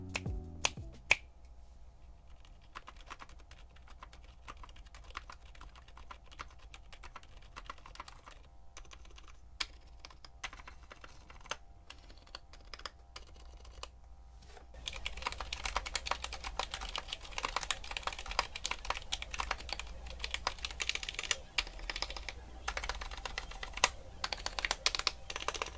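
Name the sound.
Haimu Heartbeat silent linear and Whisper tactile switches typing sound test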